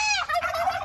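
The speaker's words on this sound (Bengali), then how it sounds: "এটা হচ্ছে টার্কি খামার" A turkey gobbles at a turkey farm, one loud, rapid rattling gobble heard close and alone in under a second.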